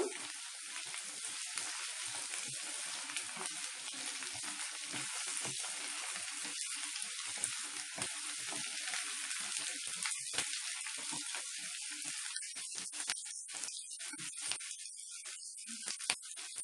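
Sliced ivy gourd (dondakaya) frying in hot oil makes a steady, dense sizzle with crackling pops throughout, close and continuous with no voices.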